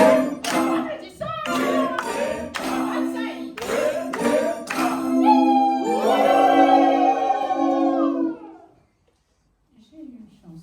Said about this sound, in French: Nous allons l'applaudir. Applaudissons! Applaudissons!